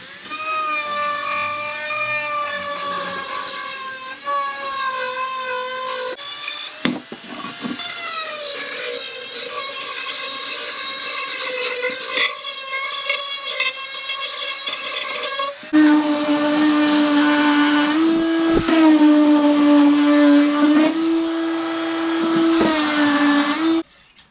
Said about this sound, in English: I'm going to go in with a small sander on the rotorer tool, and then on the orbital sander